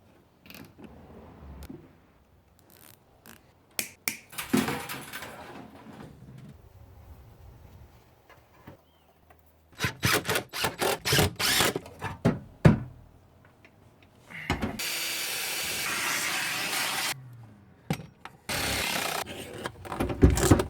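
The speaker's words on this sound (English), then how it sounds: "So I'm just going to use zip ties to tighten everything down." Zip ties pulled tight around fuel lines during a diesel heater install in a bus conversion, giving rapid ratcheting zips in bursts, close up, mixed with knocks, rubbing and handling noises.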